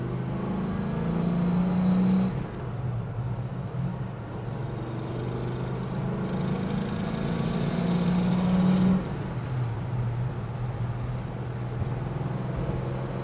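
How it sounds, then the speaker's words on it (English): A 1969 Pontiac GTO cruises steadily on a farm road, its low engine drone and road rumble holding even and close throughout, with a slight swell in the first two seconds and again around eight to nine seconds. "We're just going to show you how it cruises without getting on it much."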